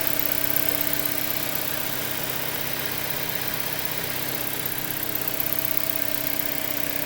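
A 2010 Mitsubishi Colt Plus's naturally aspirated, chain-driven 1.5 litre four-cylinder engine idles steadily, a smooth even hum with a faint rhythmic pulse, close by and unchanging throughout.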